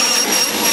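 Table saw ripping 3-inch plywood strips, a loud, close, steady high-pitched whine of the blade cutting through the wood.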